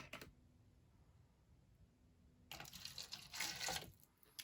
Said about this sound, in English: let's go ahead and pour some water in my red Solo cup right here